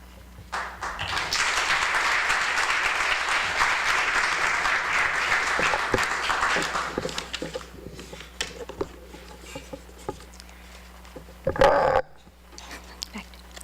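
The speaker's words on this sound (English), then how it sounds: "please applaud and cheer" An audience at a Rutgers University Alumni Association meeting breaks into strong, sustained applause for several seconds, then it thins into scattered claps and taps, with a brief louder burst near the end.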